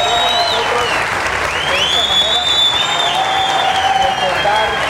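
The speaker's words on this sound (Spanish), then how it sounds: "Un aplauso fuerte para Tato y para Chumillo." Audience applause during a Spanish-language televised tribute show, loud sustained clapping from a crowd filling the whole stretch, with music playing underneath.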